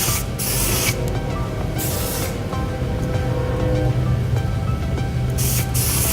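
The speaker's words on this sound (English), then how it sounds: "I have this Orb texturizing spray" Several short bursts of aerosol spray hissing close by over a steady background hum.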